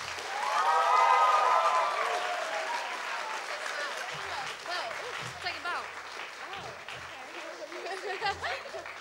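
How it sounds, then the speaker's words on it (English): Audience round of applause for the women's officer candidates at a student election hustings, clapping and cheering swelling early then thinning, with a few voices talking as it fades. "I'd like you to give a round of applause for our candidates"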